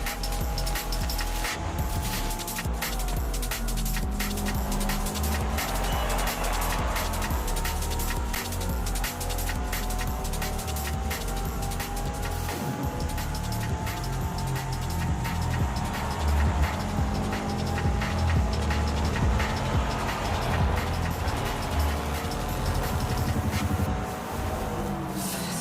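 Race car engines in a Forza Horizon 5 race, including a Subaru and a GTR, drone and whine continuously, rising and falling with gear changes and corners, steady and fairly loud.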